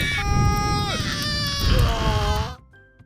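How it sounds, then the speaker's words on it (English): Small cartoon popcorn and nachos scream in a chorus of high, wavering cries like shrill infant wails, loud and continuous for over two seconds before cutting off into a faint trailing tone. "The little popcorn and nachos began screaming and running away."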